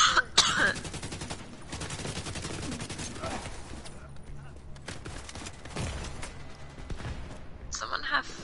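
An automated turret in Division 2 rattles off rapid gunfire bursts that layer over dense game effects and other shooting, with voices on team chat talking throughout.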